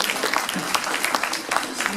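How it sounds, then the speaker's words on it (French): Audience applause, a short burst of dense clapping heard close and fairly loud, with voices mixed in over it. "On peut t'applaudir, bravo."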